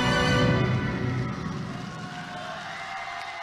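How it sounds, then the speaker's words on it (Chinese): An arena audience at a national senior ladies figure skating championship cheers and applauds loudly after a free skate, with music fading beneath the crowd noise. "全场观众爆发出了雷鸣般的掌声。"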